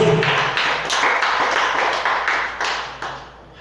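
A church congregation at a Wednesday Pentecostal service claps steadily in unison, sharp rhythmic bursts filling the room at close range, with faint low tones underneath.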